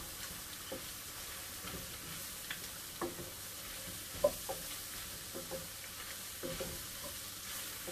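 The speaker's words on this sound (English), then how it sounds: "I'm going to sprinkle that over and stir it around." Flour gets stirred into browning jambalaya meat in a pot, a steady low sizzle under intermittent scraping and clicking of a spoon against the pot, with no voices.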